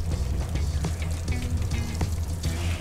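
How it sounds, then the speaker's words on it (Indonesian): Water splashes and pours steadily over a repainted motorcycle crankcase during washing, a continuous close rushing sound with small irregular splatters, no talking. "sekarang kita akan siram menggunakan air"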